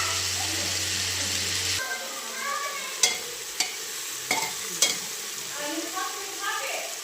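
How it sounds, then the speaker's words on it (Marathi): Rice and ingredients sizzle steadily in a hot pan while a utensil scrapes and taps against the metal a few times as it is stirred; no one speaks. "परतलं सगळं"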